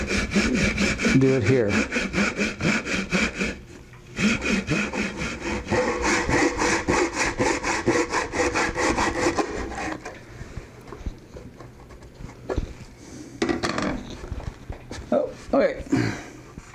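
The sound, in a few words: handsaw cutting wood on a jig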